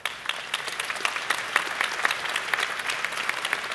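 Audience applause at a RuneFest Q&A panel for Old School RuneScape, a dense, steady patter of many hands clapping close by for the whole stretch, with no voices on top.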